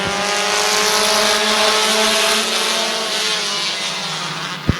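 Race cars at Midvale Speedway roar together as an 8-lap heat race goes green, a dense, steady engine drone with layered harmonic whines that holds loud throughout, ending with a sharp low thump near the close.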